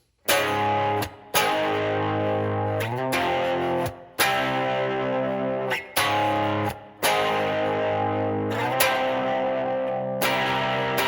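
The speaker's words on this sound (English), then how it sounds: "So it's a major chord, becomes a dominant 7th chord." Distorted electric guitar strums sustained chords in a steady sequence, a major chord turning into a dominant seventh, each ringing out before the next strike, loud and close.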